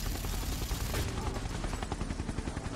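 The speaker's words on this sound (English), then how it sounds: "Call for a Gatling raid now." Dense Gatling gun air-raid fire in the video game Overkill 3, a continuous loud rattle of rapid shots and blasts with no pause.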